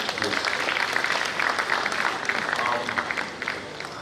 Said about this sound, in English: Can we also give them a round of applause, please?